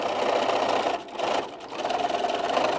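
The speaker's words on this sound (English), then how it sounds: "And now that is where we do want to back stitch." A sewing machine back stitching fabric seams on a knot bag, a close steady mechanical whir broken by two short pauses where the stitching reverses direction, no talking.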